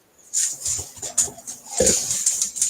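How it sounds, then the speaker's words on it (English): Dogs whimper and give short yips indoors, a run of close, uneven whines and soft barks with one louder burst partway through. "So the dogs have apparently decided to join us."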